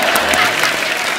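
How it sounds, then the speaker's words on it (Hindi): Brief burst of studio audience applause on a Hindi comedy talk show, dense clapping filling the moment at close, loud level. "तो ये तालियां।"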